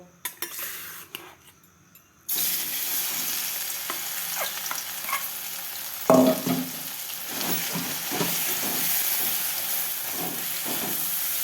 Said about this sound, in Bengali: কড়াইয়ে তেলটা গরম হয়ে গেছে খুব ভালো করে। এরপর আমি মটরশুঁটিটা দিয়ে দেবো।